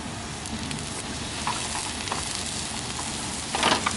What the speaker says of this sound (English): I've already started cooking on the griddle